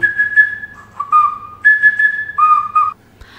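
Short melodic phrases on a traditional folk whistle at an outdoor crafts fair, alternating between two pitches with pauses between notes, loud and near, no voices.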